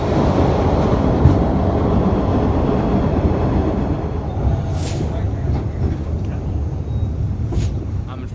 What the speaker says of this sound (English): And here's my train.